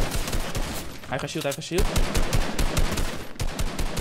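Rapid gunfire crackles through a shooter video game in dense, repeating bursts, loud and close, while a player talks briefly over the shots.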